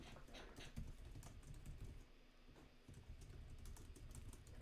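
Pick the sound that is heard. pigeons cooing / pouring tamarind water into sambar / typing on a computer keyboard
typing on a computer keyboard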